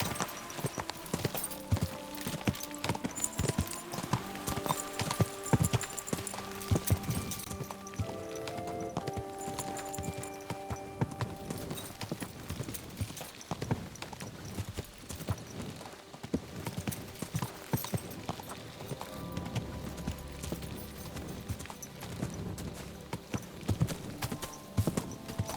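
Horse hooves clip-clop in a steady walking rhythm, close and continuous, over background music in the video game Kingdom Come: Deliverance 2.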